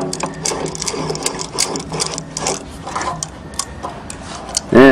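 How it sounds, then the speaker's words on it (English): A ratchet clicks in quick, close bursts as it is turned on the flywheel of a Briggs and Stratton engine. "Put the ratchet back on,"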